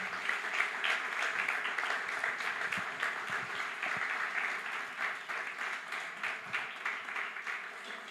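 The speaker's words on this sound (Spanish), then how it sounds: "Dale un aplauso al Señor esta mañana." A church congregation applauds during a Sunday morning service, a steady wash of many hands clapping together, dense and sustained throughout with no talk rising above it.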